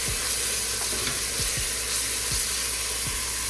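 Onions sweating in a pan over medium-low heat, a soft, steady sizzle and hiss with occasional low thumps of stirring, close and even.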